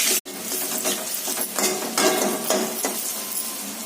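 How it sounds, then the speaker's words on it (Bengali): Eggplant frying in a kadai, with sizzling oil and repeated scraping stirs of a spatula in a short burst after a brief silent gap. "বেগুনটা ভালো করে ভাজা হলে তারপরে শাকটা দিতে হবে।"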